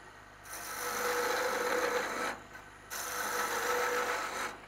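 A 13 mm gouge cuts wood on a lathe while a spatula is being turned, giving a steady close scraping, rasping hiss in two long passes separated by a short break.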